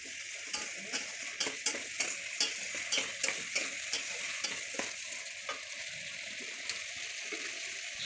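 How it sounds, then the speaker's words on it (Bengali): Egg curry spice paste with cumin powder and water being stirred in a pan, with a steady run of scraping strokes and light wet sizzling, close and fairly loud, no voices. "জল দিয়ে নাড়বো।"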